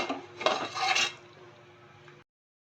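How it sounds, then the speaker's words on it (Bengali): A lid lifted off a pot of homemade chicken polao, metal clinking and scraping in two brief clatters before a softer fading hiss that cuts off abruptly, close by. "এবার ঢাকনাটা খুলছি"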